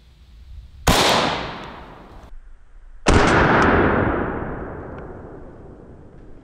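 A rifle fires 60 grain Wolf mil-spec 5.45 ammunition: two loud, sharp shots about two seconds apart, each followed by a long, rolling echo that fades slowly outdoors.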